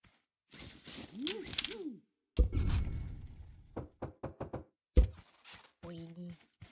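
A welded creation is smashed apart in Scrap Mechanic, with a burst of crunchy impact noise followed by a quick run of hollow thunks and knocks, amid warbling synthetic game tones and a short chime.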